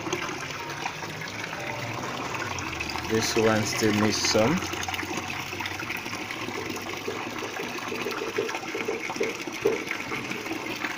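Water gushes steadily out of a catfish tank through an outlet controller, a loud continuous rushing and splashing under a person speaking briefly nearby.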